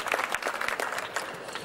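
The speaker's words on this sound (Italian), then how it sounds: "Credo che meritino davvero un grosso applauso." A crowd at an outdoor 25 April commemoration applauds a town wind band concert, dense clapping near and steady throughout the short burst.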